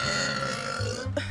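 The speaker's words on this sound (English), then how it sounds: "That was a good burp." A single loud, deep burp from a woman, drawn out for over a second and close to the microphone, ending with a short vocal catch.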